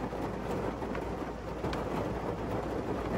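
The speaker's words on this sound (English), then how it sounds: "Hear the rain? Love it." Steady rain falls in a continuous broadband hiss with scattered drop patter, heard close and fairly constant, with no voices.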